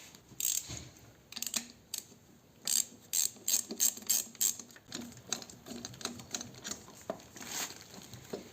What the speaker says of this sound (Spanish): ya vamos a quitar los 4 tornillos de 10 que la sujetan al colector de admisión